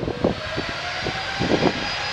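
A Hainan Airlines Airbus A330 at Manchester Airport spools up its jet engines for takeoff: a loud, steady broadband roar with a whining tone running through it and a few gusty surges, no voices.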